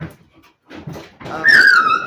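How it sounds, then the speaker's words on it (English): A puppy whimpers and whines up close in a few short bursts, ending in a higher, drawn-out whine. "Whoa, puppy!"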